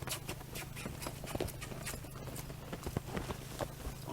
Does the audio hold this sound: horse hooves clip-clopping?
yes